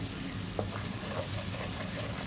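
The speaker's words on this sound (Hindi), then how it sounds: "कड़ी पत्ते और हरी मिर्चें डालकर अब हम इसको अच्छी तरह फ्राई कर लेंगे।" Cumin, curry leaves and green chillies frying in a pan with onions, giving a steady, close sizzle with faint stirring ticks throughout.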